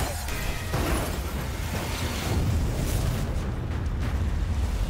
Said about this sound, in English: Truck crash. Boom.